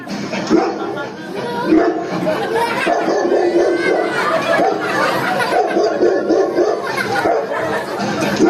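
During a student cabaret drama of the Sangkuriang legend, a performer imitates a dog barking with repeated vocal yaps and whimpers, heard loud and close amid audience chatter and laughter.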